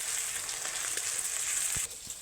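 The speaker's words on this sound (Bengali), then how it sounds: "আদা, রসুন, পেঁয়াজ সব কিছু একসঙ্গে এবার ভালো ভালো করে ভাজা ভাজা করে নিচ্ছি" Ginger, garlic and onion frying together in a pan, giving a steady close sizzle with a few soft stirring knocks toward the end.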